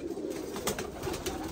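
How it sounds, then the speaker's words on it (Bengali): Pigeons at a pigeon farm coo steadily, a low, continuous murmur of many birds close by with a faint high whine running through the background. "এই যে খুব সুন্দর সুন্দর কবুতর।"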